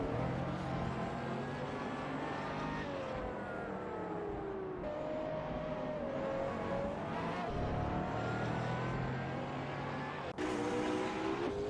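Hypercars race around the Spa circuit in a racing video game, engines whining through rising and falling gear shifts as cars pass close by, loud and continuous with brief tire squeals.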